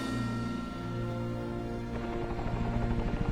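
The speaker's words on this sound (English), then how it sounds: "Finally, 2 rescue helicopters are cleared to land." A rescue helicopter's rotor thumps and engine drone hold steady and fairly close, with the rhythmic chopping growing more pronounced toward the end.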